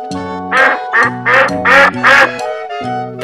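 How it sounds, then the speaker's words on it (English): A duck on a pond quacks repeatedly up close, a string of loud nasal quacks in quick succession with no other sounds around. "The duck quacks."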